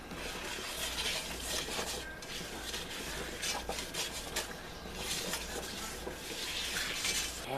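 A plastic whisk works flour into hot grease in a pan for cube steak gravy, giving a steady, close scraping and stirring texture with no talk.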